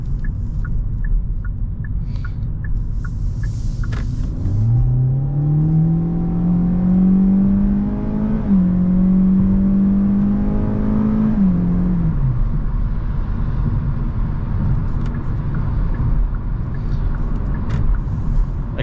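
A 2024 Hyundai Elantra accelerates from inside the cabin, its engine note climbing smoothly through a long rising pull, shifting, then easing off, over a constant road and wind rumble; no voices.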